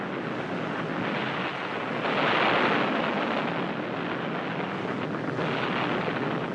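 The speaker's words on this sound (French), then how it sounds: "Il fait exploser des compartiments à munitions." Ammunition compartments exploding aboard a burning aircraft carrier in the Pacific War, a sustained roaring rumble that swells in the middle and stays dense and continuous throughout.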